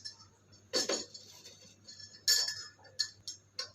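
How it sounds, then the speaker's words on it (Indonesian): A metal spoon clinks against a glass of water, with a few bright, close taps spaced out over a few seconds above a low, quiet hum. "Lalu sendoknya dimasukkan ke dalam gelas."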